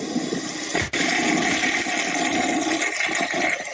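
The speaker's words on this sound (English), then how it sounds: "The old flushing toilet." Toilet flush sound effect, a loud, close, rushing gush of water that roars steadily for several seconds with a brief dip near the start.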